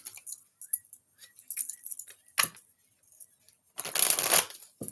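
Tarot cards being shuffled in short, crisp riffling bursts, close up, with quiet gaps between them and a longer shuffle near the end.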